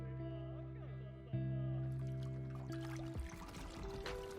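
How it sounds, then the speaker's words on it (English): Water pours and trickles in an anime scene from Demon Slayer season 3, a steady liquid flow under a sustained musical drone that shifts partway through, with no speech. "I don't like that water sound."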